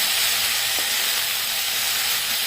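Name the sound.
frying coriander leaves and ingredients in a pan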